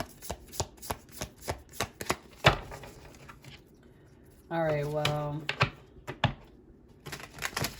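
A deck of cards is riffled and snapped repeatedly in quick, crisp bursts, with a person speaking briefly partway through.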